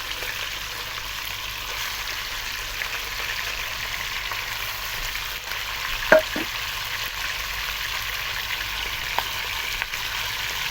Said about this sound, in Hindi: अब चिकन को हमने अच्छे तरीके से फ्राई कर लेना है